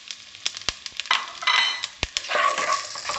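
Whole spices such as bay leaf, asafoetida, cumin and cloves sizzle and fry in hot oil in a pot, with steady crackling under sharp metallic clinks of a stirring spoon against the pot.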